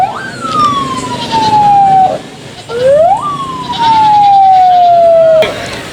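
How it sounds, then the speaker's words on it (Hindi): Police car siren at a goat market, two loud, close wails that each rise sharply and then slide slowly downward, with a short gap between them and crowd noise underneath. "यहाँ पर भी पुलिस की गाड़ी आ चुकी है"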